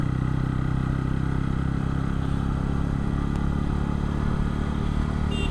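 A motorcycle riding through Sylhet city past tea gardens, its engine a steady, continuous mid-pitched drone with road and wind noise throughout and a faint clatter, no talk.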